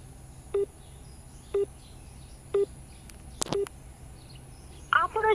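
Four evenly spaced short beeps on a phone line, a repeating tone pattern, followed by a brief burst of other sound at the end.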